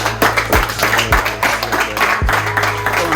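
A few people clapping in thanks for donated tools, uneven hand claps mixed with sharp taps and a low steady hum in the background, close and moderately loud.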